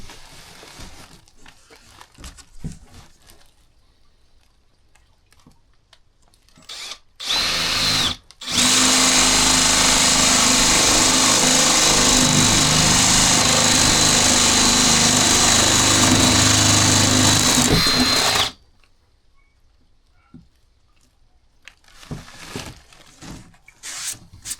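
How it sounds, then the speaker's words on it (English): A power drill fitted with a 25mm bit bores socket holes in a camper van's charging area, a short burst followed by a loud, steady ten-second whine up close, with quieter handling noises around it. "I think this 25mm bit will just about do it for them 2 sockets."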